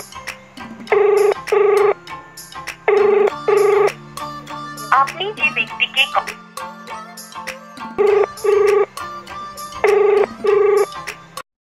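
A phone rings out unanswered on a call line, repeated paired ring bursts in a steady rhythm with a hold tone beneath, and a brief voice announcement in the middle.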